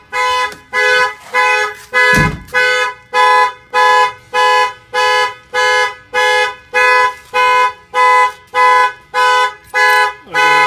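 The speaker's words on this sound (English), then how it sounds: "The alarm fires off." A loud motorhome security alarm blares in steady repeating pulses, evenly spaced, close by, with a brief thud near the start and no voices.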